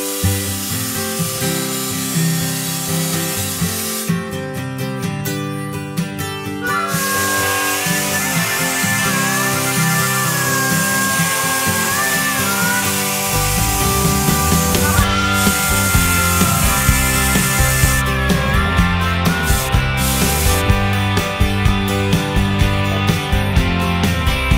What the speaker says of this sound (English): I'm sandblasting inside, outside, wherever I don't need the holes